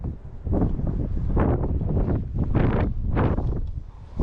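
Strong high wind buffets the microphone outdoors during a radio-controlled plane flight, a loud continuous low roar swelling in repeated gusts with no speech.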